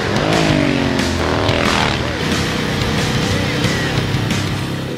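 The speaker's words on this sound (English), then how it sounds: "sort of a racing engine in it compared to our production motorcycles" A dual-exhaust racing motorcycle engine in Cyberpunk 2077 revs hard nearby, rising and falling in pitch with a raspy, throaty exhaust note.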